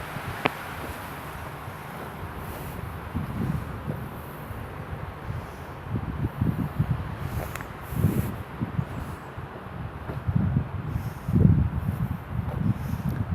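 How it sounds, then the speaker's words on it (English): Wind buffets the microphone outdoors in a hillside cemetery, a continuous low rushing with gusts that swell and fade over several seconds. "Really windy today."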